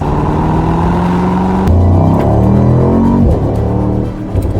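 A powerful Mercedes-AMG V8 engine in a 2023 SL 63 revs loudly and steadily, its deep growl climbing in pitch before settling, close and with no talking.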